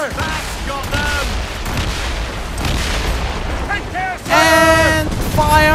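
Cannon fire in the Assassin's Creed Rogue video game booms over a continuous rumble of naval combat, with heavy blasts, whistling projectiles and a louder burst near the end, while a voice talks over it.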